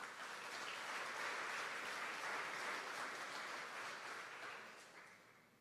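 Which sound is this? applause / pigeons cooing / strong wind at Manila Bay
applause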